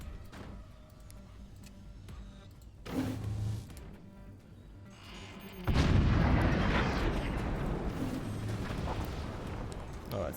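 Artillery volley in the video game Forts, heavy booming blasts arriving in two surges, the second louder and rumbling on for several seconds.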